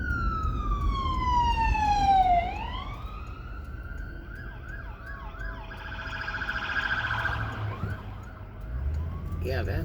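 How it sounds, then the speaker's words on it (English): Ambulance and police car sirens pass on a road in Destin, Florida, on Christmas night: a loud sweeping wail that drops sharply in pitch as it passes, then rapid yelping cycles continue over steady road noise. "It's either 2 ambulances or an ambulance and a police car."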